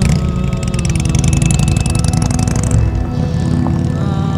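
Motorcycles ride together at a biker event with more than ninety riders from three clubs. A loud, steady chorus of engines drones close by, then eases off near the end.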